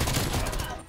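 A short, dense burst of rapid gunfire with red fire tracer rounds in Call of Duty Cold War, loud and close, filling the whole moment before tailing off.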